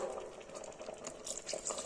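Water splashes and trickles steadily into a cooking pot for a couple of seconds, fairly quiet and close.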